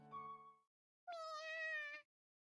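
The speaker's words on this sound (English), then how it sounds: "A very familiar meow." Two short, high-pitched kitten meows from the video game You and Me and Her: A Love Story, the second longer and brighter, clear and close against silence.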